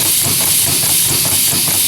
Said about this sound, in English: There's our air engine running at a low pressure.